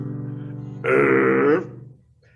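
A single loud, drawn-out burp rises over a low droning background and lasts under a second before trailing off.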